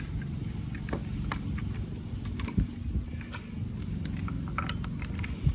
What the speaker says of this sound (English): And then we put the bolts in.